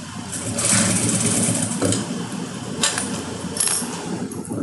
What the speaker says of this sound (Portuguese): passando uma costurinha de segurança, de acabamento